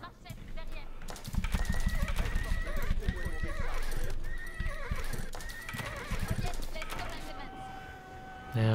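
Horses in the Age of Empires 4 video game clip-clop and whinny amid battle sounds, with hoofbeats and neighs repeating over several seconds under game effects.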